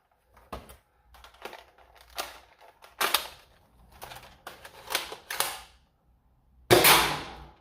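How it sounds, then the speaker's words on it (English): A foam dart blaster, an Adventure Force Aeon Pro X, clicks and rattles as a dart is loaded, with a series of close mechanical snaps and a sharper burst near the end as it fires. "I gotta load a dart in just to see, make sure that fires."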